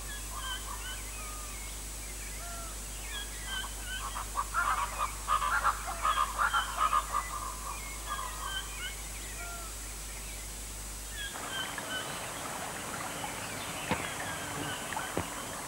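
Hoatzins call in the flooded Amazon forest, a run of harsh, wheezy honking notes rising and falling over steady background hiss, fairly distant and faint, with the calls clustering in the middle of the passage.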